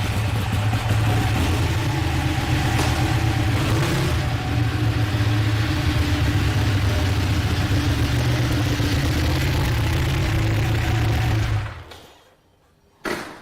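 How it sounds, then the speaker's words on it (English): Superbike engine idling loud and close with a steady low rumble, swelling slightly in places, then cutting off abruptly near the end, in a studio for a live sports show. "he's going to usher in Sports Check this morning with a few rumbles from his engine"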